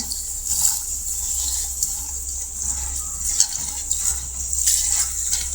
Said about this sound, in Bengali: তো বরবটিগুলো ধুয়ে নিতেছি।